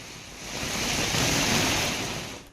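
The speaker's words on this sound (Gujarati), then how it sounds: "લુન્સીકોઈ, ઇટાળવા, તીધરા રોડ, કબીલપોર, જમાલપોર આ વિસ્તારોમાં ધોધમાર વરસાદ જોવા મળી રહ્યો છે" Heavy monsoon rain pours down in a steady, loud, dense hiss that swells slightly toward the middle and eases near the end, with no voices.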